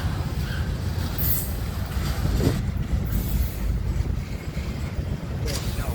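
A rumbling freight train rolls steadily past nearby in Dorval, Montreal, in the evening, with a dense low roar and occasional high wheel squeals, heard alone without talking.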